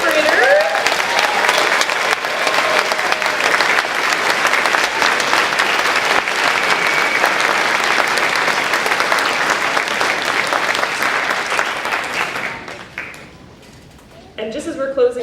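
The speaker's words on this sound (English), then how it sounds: "please join me for another round of applause for our amazing 5th graders." Audience applause for fifth graders at a school moving-up ceremony, a dense, steady crowd of clapping that holds loud for about twelve seconds, then thins and fades out near the end.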